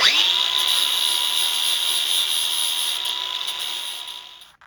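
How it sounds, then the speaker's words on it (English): A power sander buffing rust and dirt off the wheel hub mating surface of a Lexus GX470/GX460 during a front hub and bearing replacement: a continuous high whine running steadily, close and loud, then cutting off at the end. "just sand off any of the rust or dirt from the mating surface"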